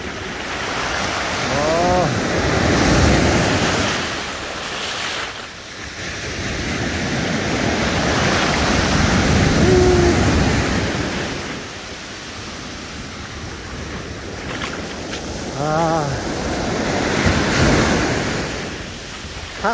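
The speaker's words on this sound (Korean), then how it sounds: "여기는 파도가 그래도 약간 높은 편이에요" Ocean surf rolls onto a surfing beach in loud, washing swells that rise and fall every few seconds, with wind buffeting the microphone and brief faint sounds between waves.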